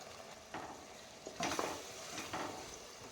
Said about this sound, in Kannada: ನಾವು ರುಬ್ಬಿಟ್ಕೊಂಡಿರುವಂತಹ ಅರಿಶಿನ ಈರುಳ್ಳಿ ಪೇಸ್ಟನ್ನು ಹಾಕ್ಕೊಳ್ತಾ ಇದ್ದೀನಿ. ಇದು ನೀಟಾಗಿ ರಾ ಸ್ಮೆಲ್ ಹೋಗೋವರೆಗೂ ನಾವು ಫ್ರೈ ಮಾಡ್ಕೊಬೇಕಾಗತ್ತೆ